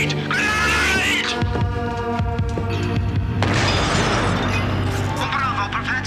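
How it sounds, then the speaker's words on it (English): A grenade goes off in a 1988 TV drama, a deep booming blast with rumbling, throbbing aftermath under tense music and shouting voices. "Grenade! Grenade!"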